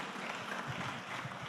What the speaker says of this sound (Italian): un applauso a Alessandro Pirovano